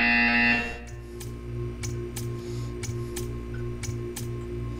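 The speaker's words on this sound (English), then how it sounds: "You will hear a buzzer. When you hear the buzzer, stare at the art." A harsh electronic buzzer from the video game Portal 2 blares loudly for about half a second, then gives way to a quieter ambience with a steady, rhythmic ticking.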